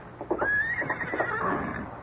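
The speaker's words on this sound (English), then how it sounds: "Someone left a horse out there." A horse, a paint, neighs outside in an old radio western drama, one long, clear whinny rising then trailing off, heard at moderate distance with no speech over it.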